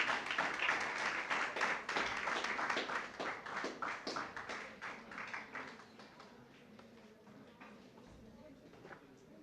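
Applause at a dedication ceremony for a new intercom system, a burst of clapping that stays dense at first and then thins to scattered, fading claps as a person comes forward.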